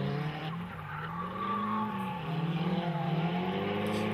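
A drift car e-brakes into a corner at Mineral Wells, its tires letting out a long, loud skidding squeal over the strained, wavering engine note, close and continuous throughout.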